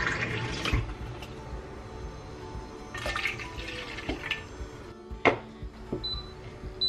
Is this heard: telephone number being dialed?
no